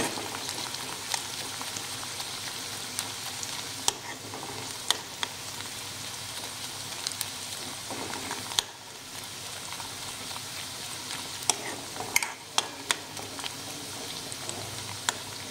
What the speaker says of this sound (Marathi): लसूण पण आता 1 मिनिटभर छान तेलात परतून घेऊया